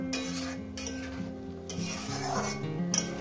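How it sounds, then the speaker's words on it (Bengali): Spice paste with fish being stirred and fried in a pan, soft repeated scraping strokes over a low, steady sizzle, close and fairly quiet, with no talking. "এখানে আমি ভালো করে মশলাটা দিয়ে কষিয়ে দেবো"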